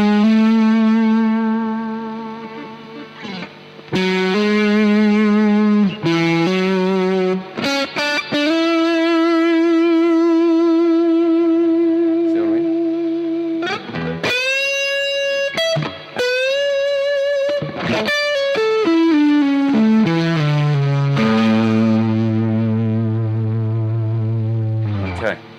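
Electric guitar run through overdrive, distortion and effects units, cycling through several distinct tones: sustained chords and single notes alternating with quick bursts of bright, saturated lead lines, loud and close throughout.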